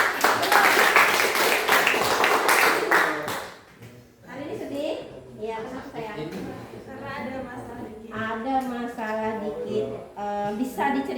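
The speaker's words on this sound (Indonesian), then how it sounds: "Oke, tepuk tangan." A classroom of students applauds with a burst of dense, bright clapping for a few seconds; it stops abruptly and a teacher then talks.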